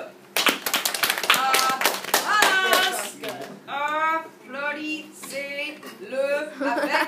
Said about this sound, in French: Applaudissez-le avec enthusiasme.